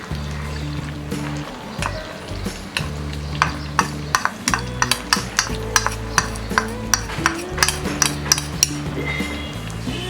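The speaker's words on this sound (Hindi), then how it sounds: "इसे हम मीडियम फ्लेम में कंटिन्यू स्टर करते हुए कुक करेंगे" Sugar and cocoa powder are stirred in a pan over a medium flame, with a spoon scraping and clinking against the metal in a steady rhythm of sharp taps over a low hum and faint sizzle.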